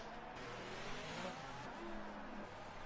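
Race cars in a PS4 racing game at the Monaco Grand Prix, with a steady engine drone and faint tire scrubbing as cars hit a desynced car on track, heard alone with no talk.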